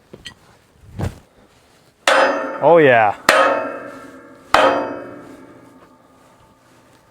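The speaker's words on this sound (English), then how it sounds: "this bottom bolt's just spinning, so the hammer might do the trick" Hammer blows on a spinning bottom bolt during a repair: three sharp metallic strikes with ringing decay, close and loud, with a brief exclamation and other noise between them.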